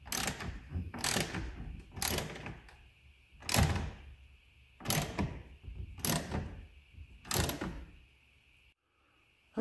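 A ratchet tightens bolts on a Jeep JLUR Diesel rear rack in seven distinct bursts of clicking, close and fairly crisp, each separated by a short pause, with no talking.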